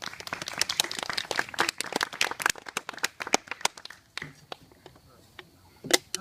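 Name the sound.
audience clapping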